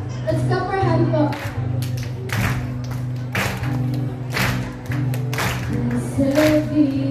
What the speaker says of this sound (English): Let's clap our hands up.